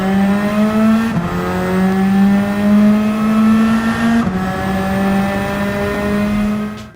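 A Toyota Supra Castrol Toms race car in the video game Gran Turismo roars loudly at high revs, its engine pitch climbing steadily between two quick gear shifts.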